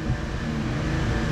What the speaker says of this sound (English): fire up the Gladiator